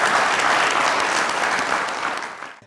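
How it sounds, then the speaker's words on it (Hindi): A studio audience on the Mazaq Raat comedy show breaks into a loud, dense burst of applause that holds strong and then tapers off over a couple of seconds. "अंदाजे बयां के लिए तालियां।"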